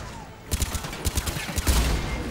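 Rapid gunfire from a less accurate rifle in the shooter Mass Effect 3, a loud burst of roughly a dozen evenly spaced shots ending in a heavier rumble.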